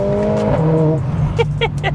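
A Mercedes-AMG A45 S engine drones with a rising, tonal rev for about a second, then a brief voice speaks over the lower running engine.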